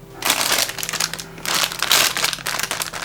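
V60 #01 coffee paper filters are crinkled and handled up close, giving bursts of crisp papery rustling separated by short pauses.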